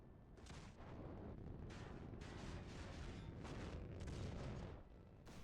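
Torpedo launches in the space combat game Nebulous Fleet Command: a series of deep, rumbling booming bursts with hissing tails, rising and overlapping in quick succession, loud and sustained.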